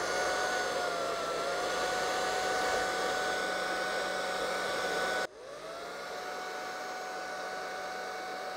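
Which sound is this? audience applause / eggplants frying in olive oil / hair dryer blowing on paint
hair dryer blowing on paint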